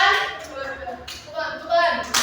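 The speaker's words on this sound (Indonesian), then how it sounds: "Tepukan." Short bursts of classroom clapping during a microteaching lesson, uneven and intermittent, mixed with voices talking over and between the claps.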